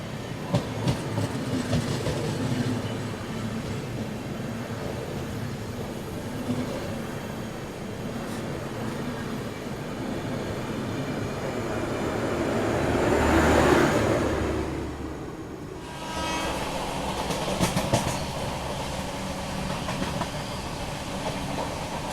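Onboard the Netaji Express passenger train in India, a continuous rumble and rhythmic clickety-clack of wheels on rails, swelling into a louder roaring surge midway before settling back to the steady running noise, with no voices.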